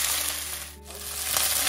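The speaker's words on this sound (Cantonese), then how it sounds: "由得佢攤開，由得佢慢慢煎" Marinated pork slices spread out and left to pan-fry slowly in a little oil with garlic, a close steady sizzle that dips briefly in the middle before swelling back, no talking.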